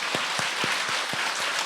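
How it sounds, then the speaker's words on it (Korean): Church congregation giving a round of applause during a Sunday service, steady dense clapping from many people filling the hall, with a few low thumps spaced evenly beneath it. "구원하시는 하나님께 우리 영광의 박수 한번 올립시다"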